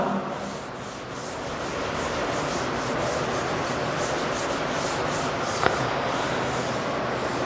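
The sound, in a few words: rubbing out the left side of the board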